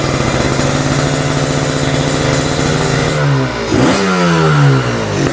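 A Kawasaki Ninja two-stroke motorcycle, started again after sitting unused for two months, revs loud and close, its steady buzzing drone sweeping down and then back up in pitch as the throttle eases off and opens again.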